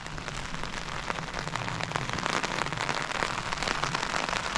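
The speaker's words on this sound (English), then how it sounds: "As it started raining" Rain pattering steadily on a tarp overhead at a campsite, a dense, close, continuous patter of drops with no voices.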